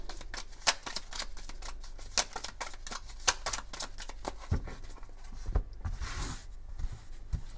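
Tarot cards are shuffled for a nine-card spread, close and fairly quiet, with a run of quick crisp riffles and slaps in an uneven rhythm and a softer rustle near the end.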